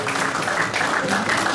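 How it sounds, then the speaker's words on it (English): Sustained crowd applause for Dr. Sharita at a repatriation and investment conference in Ghana, loud and dense with steady clapping throughout. "Let's give her a round of applause,"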